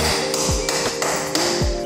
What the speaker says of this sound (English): the only thing we can do now is to hammer one of these on and break these off